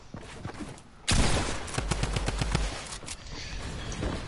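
Bursts of rapid gunfire ring out in a Fortnite match, starting abruptly with a loud volley of repeated shots and then continuing in sharp, clustered cracks over a dense background.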